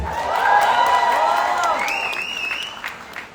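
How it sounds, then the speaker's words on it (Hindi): Audience applause at a Pathaan event honouring Shah Rukh Khan, a dense wash of clapping and crowd noise with whistles rising over it, fading slightly over a few seconds. "एक बार जोरदार ताली होनी चाहिए।"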